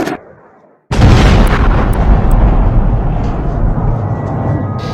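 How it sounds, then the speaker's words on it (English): A missile strike explosion in Kyiv during the Russian attack on Ukraine lands as a sudden massive boom, followed by a loud, rumbling roar that slowly fades, heard from a distance. "Huge explosions woke everyone in Kiev as the Russian mission continues."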